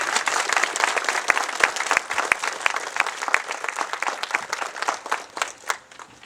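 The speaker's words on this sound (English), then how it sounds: "So I think they deserve a round of applause." An audience at a community museum grand opening breaks into a sustained round of applause, dense overlapping claps with a few sharp louder ones standing out, steady for several seconds before thinning slightly at the end.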